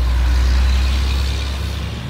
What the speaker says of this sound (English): a loud truck.